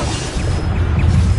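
Bombarda spell blasts in Hogwarts Legacy, a dense stream of booming bursts that keep rolling one after another close up, with no pause between them.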